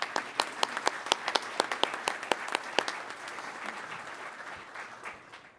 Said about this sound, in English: I'd like to offer them a round of applause.